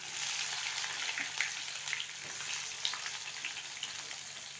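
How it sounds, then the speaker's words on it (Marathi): Onion dropped into hot oil with cumin seeds sizzles in a steady, dense frying hiss that runs the whole time, close and even, with faint crackles and no talking. "तेल गरम झाले चांगले आणि आता ह्याच्यातच आपण आपला कांदा टाकू"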